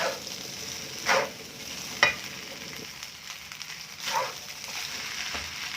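Rice with canned fish being stir-fried in a pan, a steady sizzle with a few louder scraping stirs of the spatula spaced a second or two apart, close up and alone.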